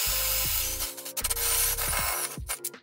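A power tool bores out and widens a hole in MDF board over plasterboard, whining and grinding in close, loud bursts that stop and restart several times with shifting motor pitch.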